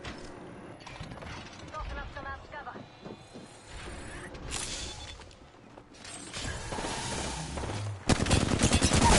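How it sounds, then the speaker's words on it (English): Gunfire exchange in the battle royale game Apex Legends, bursts of shots and impacts scattered across the clip and building louder near the end, with players talking over it. "They're shooting at each other."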